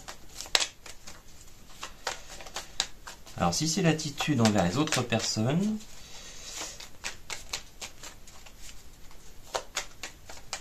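Tarot cards shuffled and drawn during a card reading, quick crisp riffles and snaps around a stretch of French speech from a reader, the card flicks close and repeated.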